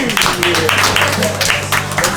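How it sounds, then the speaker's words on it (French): A small group claps together in a meeting room, a brief burst of sustained hand clapping with voices murmuring underneath. "Allez, on l'applaudit quand même pour le contenu."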